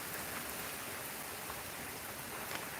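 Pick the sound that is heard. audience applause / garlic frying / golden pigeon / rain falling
rain falling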